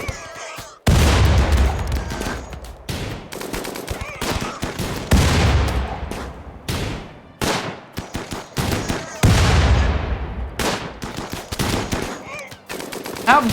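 Video game gunfire in Rimworld: dense bursts of automatic shots and loud booms crackle in repeated volleys, with brief gaps between salvos, sustained and loud throughout.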